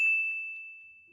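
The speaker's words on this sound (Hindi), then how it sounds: "मंदिर का घंटा बढ़ा रखा हूँ, कोडे बहु टन टन बजा जे" A temple bell struck once, a clear metallic ding that rings on with a long, slowly fading tone.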